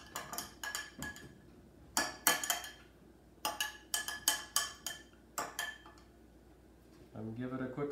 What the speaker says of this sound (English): Keep stirring. We need to make that sugar disappear.